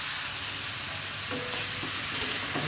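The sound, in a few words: frying and stirring vegetables with spices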